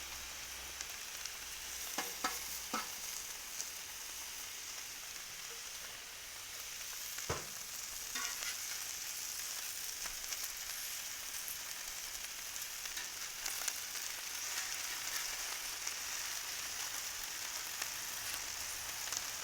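Spinach and onions sizzling steadily on a hot griddle, a continuous soft crackle with occasional sharper pops and scrapes, fairly quiet and close with no talking.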